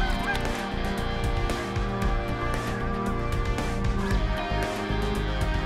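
Large mixed flocks of snow geese and Canada geese honk constantly over Saskatchewan fields, a dense, loud chorus of overlapping calls with no pause.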